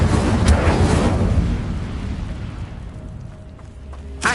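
A fiery Incendio spell cast in Hogwarts Legacy bursts out as a loud, roaring whoosh that swells quickly, then fades into a low rumble with a faint thump at the end.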